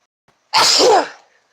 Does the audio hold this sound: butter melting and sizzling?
no